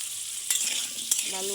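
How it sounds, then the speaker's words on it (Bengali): Potatoes with salt and turmeric sizzle in a pan while a utensil stirs them, with two sharp scraping clacks against the steady frying hiss. "দিয়ে ভালো করে ভেজে নেব"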